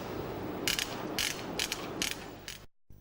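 A ratchet screwdriver clicks in four short, sharp bursts about half a second apart, close up over a low steady hum, before the sound cuts to brief silence.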